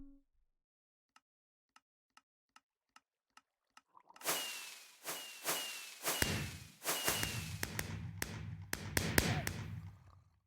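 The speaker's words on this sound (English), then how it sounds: "a little firework display will happen" A Minecraft firework display: a run of soft, evenly spaced launch ticks, then loud crackling bursts and whooshing explosions that pile up and overlap toward the end.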